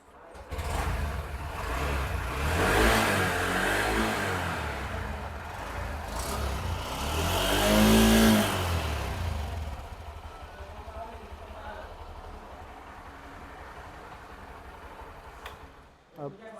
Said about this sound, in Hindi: बस आपको इसका एग्जॉस्ट साउंड है वो सुना देते हैं